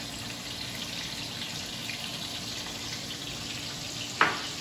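Flank steak sears in a hot oiled pan, a steady, moderate sizzle running throughout, with one brief sharp clink or tap near the end.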